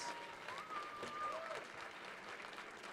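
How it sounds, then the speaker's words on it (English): Applause from the audience at an organization's 20th anniversary celebration, faint and distant, a steady wash of clapping with a brief tonal whistle or feedback line over it. "Can I get a round of applause?"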